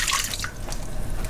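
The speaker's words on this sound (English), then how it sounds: "I've heated up some water, not quite to a boil, and I just fill this can with water" Hot water, not quite boiling, pours into an empty tomato paste can on a sailboat galley, a short, bright trickling splash heard up close.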